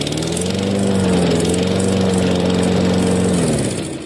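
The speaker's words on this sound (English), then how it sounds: "as long as the lawnmower's not too loud." A lawn mower engine runs steadily at close range, a loud, even droning hum with a faint pitch wobble partway through, heard alone without any talk.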